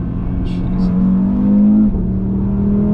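A BMW M2 or Audi RS3 drops a gear at high revs, the engine note holding a strong steady drone and then rising before dipping briefly, close and loud with no voices.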